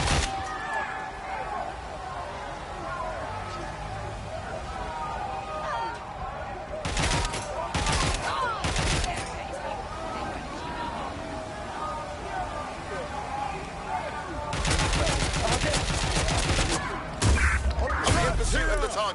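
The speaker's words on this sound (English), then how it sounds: "Providing suppressive fire." Bursts of suppressive gunfire in Watch Dogs Legion, loud clustered volleys around the middle and again near the end, with ongoing game ambience and sound effects between them.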